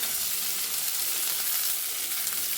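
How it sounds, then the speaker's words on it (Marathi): Chopped onion fries in a pan with mustard seeds, cumin and curry leaves for poha, giving a steady, even sizzle at moderate volume with no voices. "आता हे एक 4 ते 5 मिनिटं कांदा गुलाबी रंग होईपर्यंत फ्राय करून घ्यायचा।"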